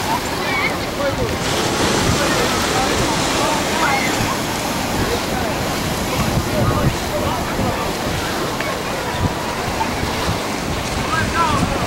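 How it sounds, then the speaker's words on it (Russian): Surf breaking on Waikiki Beach, Honolulu, with waves rolling in against a breakwater on a calm, hot day: a continuous close roar of water with repeated swelling crashes and light wind buffeting. "Так зарождается волна."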